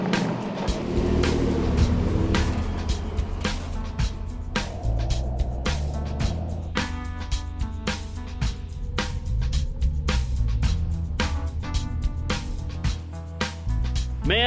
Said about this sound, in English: It's good to get the truck out on the road again